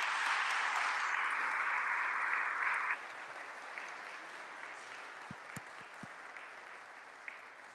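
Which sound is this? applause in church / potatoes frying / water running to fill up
applause in church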